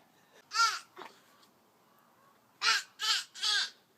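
A voice imitates crows cawing, with one call, a short pause, then three rapid caws in a row, close and clear.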